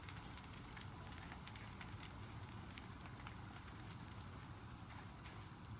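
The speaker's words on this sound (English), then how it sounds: "if you put fire over ice, over water, sorry, over ice too, I guess, it will create steam" Steam hissing where fire meets ice in the video game Eternal Strands, a faint steady crackling hiss with scattered pops, continuous and without speech.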